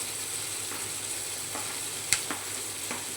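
Chopped green chilies sizzle steadily in hot oil for a paneer chatpati, a constant close hiss broken by a few sharp stirring clicks near the end.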